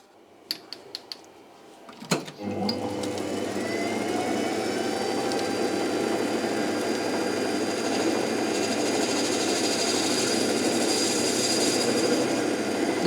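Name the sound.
lathe cutting a chamfer on a metal part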